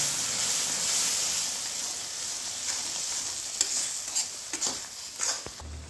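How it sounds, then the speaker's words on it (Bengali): Dried fish (shutki) sautés in a pan with a splash of bowl-rinse water, giving a soft continuous sizzle and hiss broken by a few sharp scrapes and taps of stirring toward the end. "তো আমি এটা দিয়ে কিছুক্ষণ কষিয়ে নেব"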